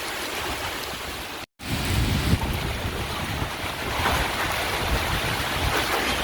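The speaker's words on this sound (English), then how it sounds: "There's a big gust just come through." A strong wind gust from Tropical Cyclone Fina near Darwin, Australia roars through the microphone, loud and rushing, with a brief dropout before the blustery roar continues.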